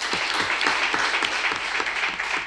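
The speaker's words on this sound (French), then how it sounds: "Je vous demande de l'applaudir aussi." Audience applause at a community event in Pobè, Benin, honouring support for a youth sports team; dense, steady clapping fills the whole stretch at close range with no talk over it.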